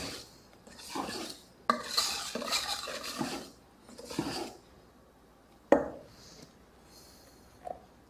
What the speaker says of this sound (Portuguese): Mexendo com carinho a nossa massa, nas laterais e no meio.